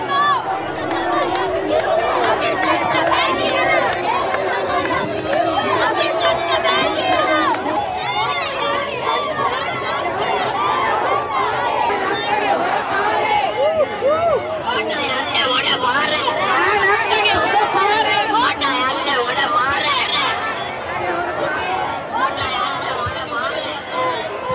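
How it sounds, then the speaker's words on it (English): Dense, loud crowd chatter fills an open seafront protest at Galle Face, Sri Lanka, with many voices overlapping continuously as people mill about with signs and flags. "Look at the depth of the crowds."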